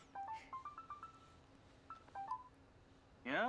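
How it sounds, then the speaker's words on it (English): A phone in the video game Despera Drops gives short, faint electronic beeping tones in two clusters, followed by a louder, brighter burst of ringing at the end. "That was when my phone rang like an ominous omen."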